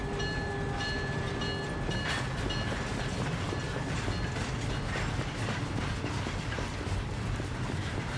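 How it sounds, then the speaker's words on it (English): A passenger train for the airport departs in Syberia: The World Before, giving a steady, dense mechanical rumble with clanking and ratcheting metal over continuous rail noise, with no talk. "The train for the airport is about to depart."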